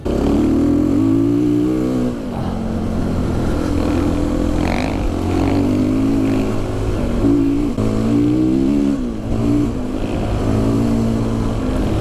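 A KTM 350 EXC-F enduro motorcycle with its four-stroke engine revving loud and close, a continuous buzzing drone that rises and falls in pitch over several throttle blips without pause.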